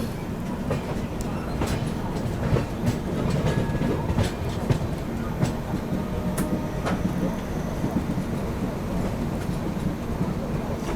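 The 22412 Arunachal AC Superfast rumbles steadily past the parked Amrit Bharat Express during heavy monsoon rain, with a dense, close clatter of wheels over track joints and sharp clicks throughout.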